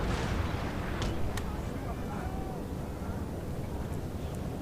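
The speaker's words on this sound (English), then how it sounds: "you can see how the cannons in the center with the canister shot will play a decisive role" Cannon and artillery fire in the Napoleonic-era strategy game Napoleon Total War, with canister shot from center guns: a dense, continuous rumbling roar of battle with a few sharper cracks, loud and steady throughout, a voice talking faintly beneath.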